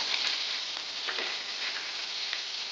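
Green chilies fry in a pan with a continuous soft sizzle, quiet and even, broken by a few faint stirring clicks and no talking.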